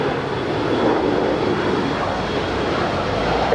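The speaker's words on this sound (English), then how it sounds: "That is Delta Connection, operated by SkyWest Airlines, flight 3665, coming in from Phoenix, Arizona, on the Embraer" A Delta Connection Embraer E175 jet airliner operated by SkyWest, arriving at LAX from Phoenix, makes a loud, continuous, broad engine roar that holds steady.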